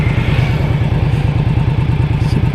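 A heavy motorcycle engine, an Indian Roadmaster cruiser, thumping loudly and steadily up close with a low rhythmic pulse and some clatter, alone without talk.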